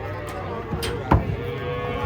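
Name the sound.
cattle mooing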